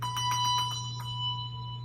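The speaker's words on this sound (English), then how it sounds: "This is rapidly ringing the bell back and forth so that the clapper hits the casing on both sides." A handbell is shaken rapidly back and forth so the clapper strikes both sides of the casing, producing a quick cluster of bright rings that settle into a sustained, fading tone over a low steady hum.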